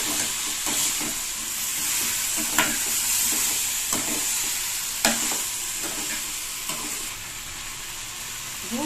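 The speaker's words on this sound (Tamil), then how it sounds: "கொஞ்சமாக உப்பு சேர்த்து நல்லா வதக்கிடலாம்" Cauliflower and double beans sautéed with salt in a pan give a steady close sizzle and hiss, with a spatula scraping and clacking against the pan every couple of seconds.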